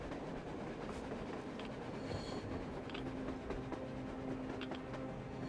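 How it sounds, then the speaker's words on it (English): A train rolls past on the surface in the video game Metro Exodus, a continuous distant rumble with faint clickety-clack and metallic squeals of the wheels, steady throughout without talk. "A train! A damn train on the surface!"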